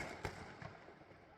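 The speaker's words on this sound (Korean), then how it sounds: "한밤중 폭죽과 총성이 울리고" Fireworks and gunshots crack through a night of rioting, arson and looting on a French-governed island, with sharp bangs at the start and end and a softer pop in between over a steady background of crowd and street noise.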